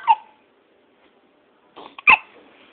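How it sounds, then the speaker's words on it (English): A baby girl hiccups close by, with one small hiccup at the start and another, louder one about two seconds later, separated by quiet. "Oh, you got a hiccup."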